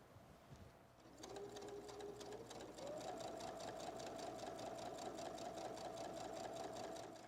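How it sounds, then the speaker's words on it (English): A sewing machine stitches strips of quilt fabric together for a fall table runner. It whirs steadily at a fast, even rhythm with a faint motor hum, rising in pitch after a short start. "Then I'll sew them together."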